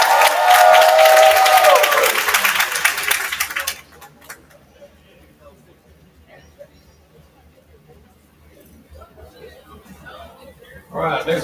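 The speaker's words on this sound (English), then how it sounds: "Let's give Ryan a round of applause." A crowd at a Christian school event applauds a student named Ryan, loud clapping and cheers that fade out after a few seconds into a quiet room with faint chatter, then a brief burst of noise returns at the end.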